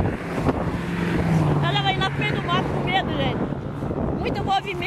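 Strong wind blowing through Atlantic forest, a loud, steady rushing roar buffeting the microphone throughout, with a voice speaking over it.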